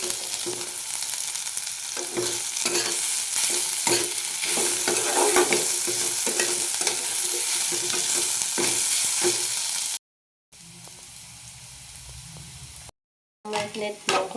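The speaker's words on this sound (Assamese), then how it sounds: "পাতকেইটাও দি দিছোঁ একেলগে, ভাজি আছোঁ।" Leaves frying and being stirred in a pan, with loud continuous sizzling and rhythmic scraping strokes from a utensil, then the sound drops out and returns quieter in short stretches.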